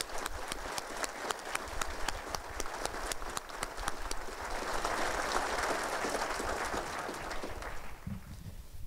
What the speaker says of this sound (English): if you would join me in giving Recruit Class 68 a thunderous round of applause